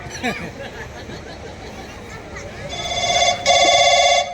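A telephone rings with a steady electronic trill, starting partway in and growing louder, over a murmur of background chatter.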